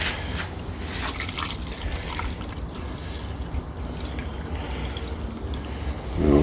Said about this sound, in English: I'll wait till all the solutions drain through first, and then I'll put the sediment in.